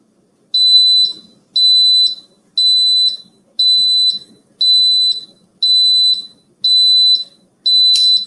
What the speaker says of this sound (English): That is my Instant Pot beeping in the background.